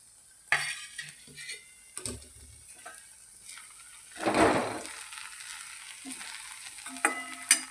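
Sweet vermicelli cooking with tomato in a pan over medium gas: a soft sizzle with occasional stirring scrapes and spoon taps, one longer scraping stir in the middle, quiet and close.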